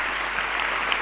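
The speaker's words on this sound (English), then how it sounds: "Please give him an applause." An audience at a conference session claps in steady, dense applause that holds at an even level throughout the brief moment.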